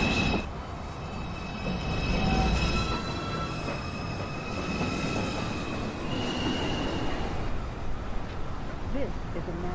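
A NYC Subway 2 train rolls into 207th Street station with its wheels squealing and rumbling on the rails, under recorded platform announcements. A short tonal beep is also heard.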